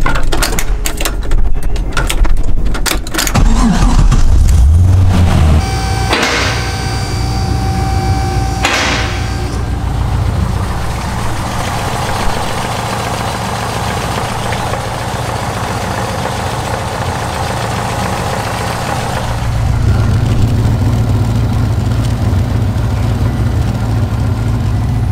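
A vehicle engine cranks and catches after a few clattering knocks, then settles into a steady, loud, low idle that runs on with a slight rise near the end.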